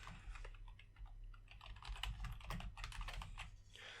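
Quick, close clatter of fingers typing on a computer keyboard, irregular bursts of crisp key clicks with brief pauses, steady and fairly quiet.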